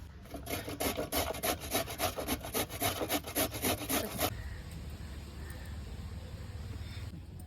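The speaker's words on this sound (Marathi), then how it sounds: "गाजर आपल्याला धुवून सोलून किसून घ्यायचे आहेत" Carrots being grated by hand for a sugar-free carrot halwa, a steady run of rhythmic rasping strokes close up for about four seconds, then stopping to leave only quiet room noise.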